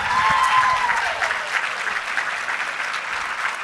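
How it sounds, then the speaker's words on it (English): An awards-ceremony crowd claps for a group of finalists, a dense wash of applause that starts strong and slowly eases slightly while staying steady, with no speech. "a huge round of applause."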